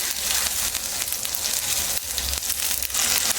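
Onion puree with spices frying in a pan for Indian suran curry, a dense, constant hiss of sizzling close up, steady throughout with no voices.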